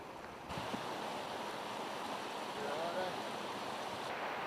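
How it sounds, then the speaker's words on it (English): Steady rushing water fills the clip, a broad continuous wash of the Clarence River near Kaikoura flowing nearby, with faint wind noise and no clear talk. "So we were just rafting down the river"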